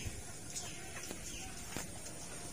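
Chickens inside a coop, faint and somewhat distant, giving a few scattered clucks and short calls over a steady background hiss.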